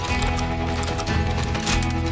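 Horse hooves in the Western video game Call of Juarez: Gunslinger, a steady clip-clop of trotting hooves up close over a dense bed of game sound, with no talk.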